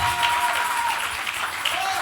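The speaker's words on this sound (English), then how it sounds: "Are you clapping these hands?" A church congregation claps their hands in steady, dense applause that fills the room, with voices speaking over the clapping.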